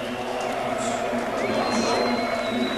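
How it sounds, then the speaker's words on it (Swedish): AIK supporters cheering in a stadium stand, a steady distant crowd roar with someone commentating over it. "Och det är det AIK-klacken som får jubla där borta i kurvan."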